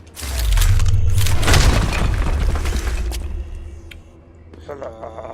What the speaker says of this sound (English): I'm gonna break that wall